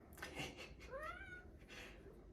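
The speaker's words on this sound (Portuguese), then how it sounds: "Meus gatos." Cats meowing, one drawn-out rising and falling meow with a shorter cry before it, faint and fairly close over a low background hum.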